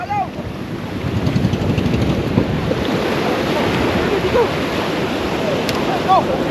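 Waves wash and churn continuously under gusty wind rumble, with a few faint voices calling out in the distance.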